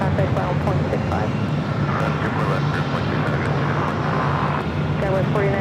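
A plane at Los Angeles LAX airport gives off a continuous broad engine roar that stays loud and even throughout. Radio chatter and other voices are faintly audible underneath.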